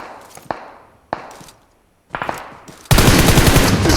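PUBG Mobile gunfire: a few loud, close single shots crack out with short gaps between them, then a sustained burst of rapid automatic fire.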